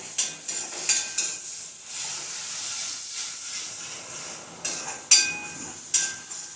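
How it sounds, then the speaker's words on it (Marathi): Onion, ginger and garlic fry for ragda in a pan, a close hiss and sizzle broken by several sharp scraping stirs and clatters. "कांदा लसूण वगैरे सगळं चांगलं व्यवस्थित भाजून घ्यायचं"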